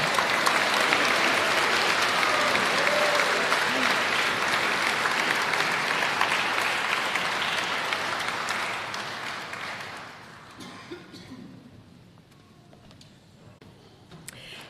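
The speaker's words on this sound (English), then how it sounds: "We could give them a wee round of applause again, couldn't we?" Sustained audience applause for a rock choir at a charity Christmas celebration; dense steady clapping that carries on for about ten seconds, then thins out and fades to scattered claps.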